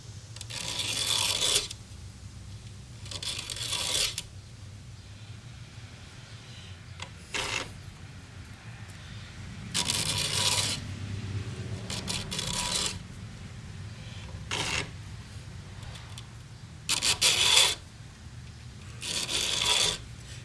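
Rasping strokes of a hand file sharpening the teeth of a DeWalt chainsaw chain, heard as separate bursts of two or three scrapes with pauses between, close and fairly loud over a low steady hum.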